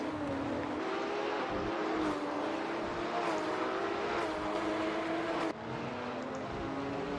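Race cars in a racing video game on the Surfers Paradise circuit give a loud, continuous engine drone that rises and falls in pitch as the cars shift and pass, with no talk over it.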